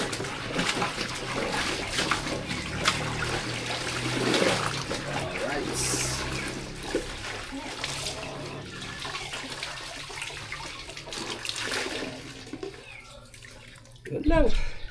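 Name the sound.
rinsing laundry in water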